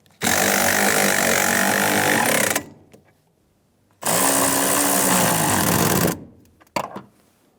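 A power tool on a 2007-2011 Toyota Camry snugs down rear strut bolts in two loud, steady bursts of about two seconds each, separated by a quiet pause, with a few short clicks at the end.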